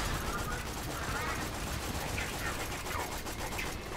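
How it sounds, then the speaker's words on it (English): Steady, dense gunfire from a Borderlands 2 firefight keeps up for the whole stretch, loud and close, with voices talking over it. "Stop shooting me!"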